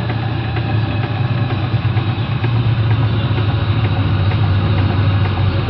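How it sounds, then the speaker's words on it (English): Restored Virginia City steam engine running on 20 PSI steam with a retubed boiler, a steady close mechanical chugging rumble with faint rhythmic clanks, continuous and even, no talking. "this engine is running very happily on 20 PSI"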